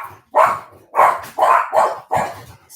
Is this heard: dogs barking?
yes